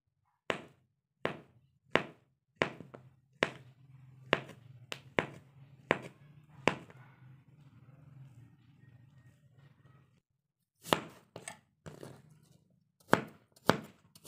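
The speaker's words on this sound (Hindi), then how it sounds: "फ्रूट को हम काट लेते हैं, सारे फ्रूट्स काट लेंगे फिर आपको दिखाते हैं" A knife chops fresh fruit for fruit chaat on a board with sharp, crisp strikes at a steady rhythm. There is a quiet gap with a low hum in the middle, then more irregular cuts follow.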